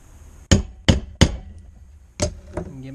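Hammer blows on a center punch set against a metal turbo uppipe for an external wastegate hole: five sharp, close metallic strikes, three evenly spaced, then a pause and two more, each with a short ringing decay.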